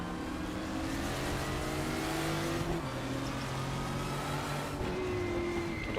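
Race car engine from the Raceroom racing game, a four-gear car as fast as a modern Formula car, holding a loud, steady high-revving note with pitch sweeps as it accelerates and shifts, continuous with no talk.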